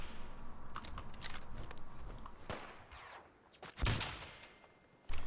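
Gunfire in the video game Fallout 4: sharp shots in irregular bursts over a steady ambient bed, with a loud cluster near the end and a final shot breaking in.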